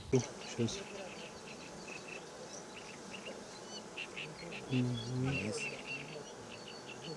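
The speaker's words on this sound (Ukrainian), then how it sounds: "А це одна з бджоломаток, єдина у сім'ї, котра відкладає яйця, з яких виводяться всі інші бджоли." Honey bees buzz at an apiary, a soft steady hum with a few louder passes near the microphone, and faint bird calls in the background.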